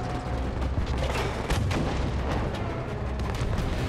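Gunfire and booming blasts in the video game Battlefield V, a dense, continuous barrage of sharp shots and heavy thuds layered over rumbling battlefield noise, loud and close throughout.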